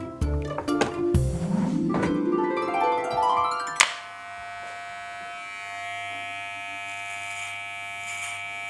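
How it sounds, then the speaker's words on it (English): Electric hair clippers buzz steadily and close up, preceded by a sweeping, swelling electronic tone that cuts off sharply before the hum continues alone. "That's the sound of the arm vibrating against the spring inside that moves the teeth from side to side"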